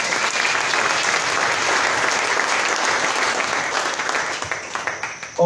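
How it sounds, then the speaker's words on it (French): A church congregation claps their hands in steady, dense applause that fills the space at a constant level, thinning slightly near the end. "Clap your hands for the Lord."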